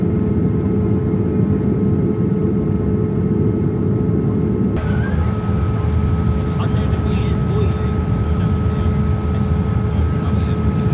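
Airplane cabin noise fills a Norse Atlantic Airways flight as a loud, constant engine roar and hum with steady tones, droning unbroken while a person talks over it.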